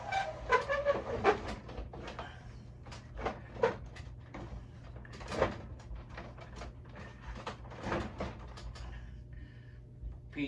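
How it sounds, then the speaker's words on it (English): Plastic wheels of a G.I. Joe Defiant toy vehicle squeak and catch as it is raised along its track, a run of irregular creaks, clicks and scrapes over a low steady hum, fairly close and without speech. "put a little bit of grease on those wheels in this track right here, because it's a little squeaky and catchy"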